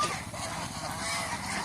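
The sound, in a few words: geese honking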